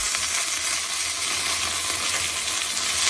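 Mustard seeds and curry leaves sizzle in hot oil, making a loud, continuous, crackling hiss that holds steady throughout with no voices.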